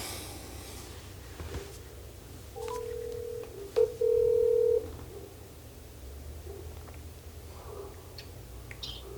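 Phone dialing tones before a call, heard as a few short steady beeps and one longer held tone near the middle, faint and fairly close over quiet room background.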